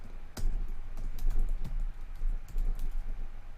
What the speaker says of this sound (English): So I'm going to type new button, the object name for that.